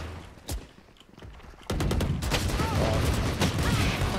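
Gunfire in the video game Valorant, a single sharp shot followed by bursts of rapid automatic fire, loud and close, with a player talking over it.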